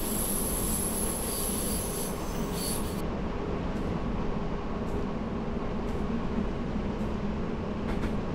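Train rolling steadily on rails in Train Simulator 2018 on the Mittenwald line, a continuous loud rumble with wheel squeal early on and faint periodic clicks of rail joints, no talk.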